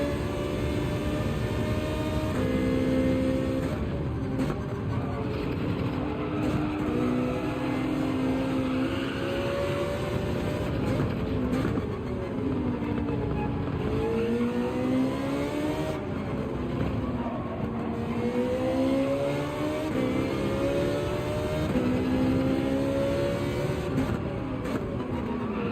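A Ferrari race car engine from Gran Turismo 7 at Interlagos drones steadily and loudly, its pitch rising and falling through repeated gear changes and throttle lifts across the lap, with no talking.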